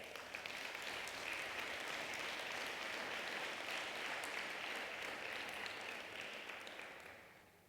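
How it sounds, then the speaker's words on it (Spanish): A church congregation applauds together, a broad, sustained wash of clapping that holds steady for several seconds before fading out at the end, heard at a fairly low level. "Dan un aplauso a él."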